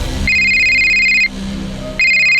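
A phone rings loudly with a bright electronic tone, two clear bursts separated by a short pause, close and unaccompanied by speech.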